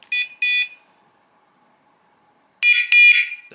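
A Dogtra 2702 e-collar beeper, muffled by hand, gives two short electronic beeps, then a pause, then a longer burst of pulsing beeps, close and fairly loud with no talking.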